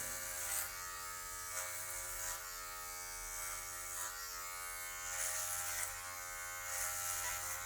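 An electric hair clipper with a number 2 guard buzzes steadily close by while cutting hair in straight passes, a quiet continuous hum with faint rhythmic swells.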